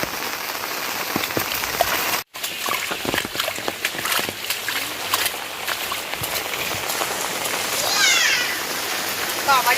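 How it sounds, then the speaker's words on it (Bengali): Heavy rain pours down on a garden with okra plants, a dense, loud patter of drops that never lets up, with a few brief sharper splashes and a faint high chirp near the end. "আর বৃষ্টি হচ্ছে"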